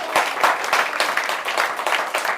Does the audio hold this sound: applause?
yes